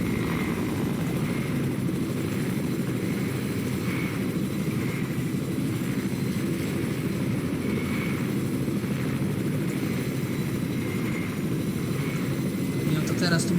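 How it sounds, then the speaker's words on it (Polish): A continuous low rotor drone of a helicopter in the video game Fortnite hums steadily throughout, unchanging and fairly loud, with faint talk mixed in underneath. "Mamy helikopter."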